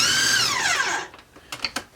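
A food processor whirs through a chunky filling for Beef Wellington in a single burst of about a second, its motor pitch sliding down as it stops, followed by a few scraping clicks.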